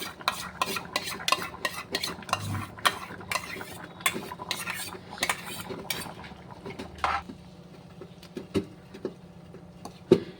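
A utensil stirs whisked yogurt into Kerala-style avial curry in a pan, making irregular soft scrapes and sharp metallic clinks against the pan, close and fairly quiet.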